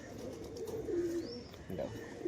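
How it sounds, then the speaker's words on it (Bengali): A restless pigeon, just released into a cage, gives soft, low cooing calls close by, a few short murmuring phrases amid faint background voices. "দেখো পায়রাটাকে খাঁচায় ছাড়া হলো"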